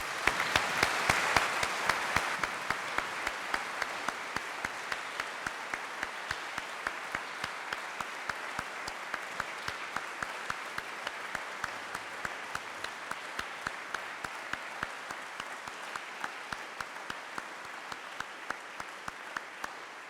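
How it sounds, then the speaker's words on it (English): Applause for new police officers at a Greater Manchester Police attestation ceremony, dense clapping from a crowd at first that thins into a slower, rhythmic patter of fewer hands over twenty seconds. "I think they all deserve another round of applause, don't they?"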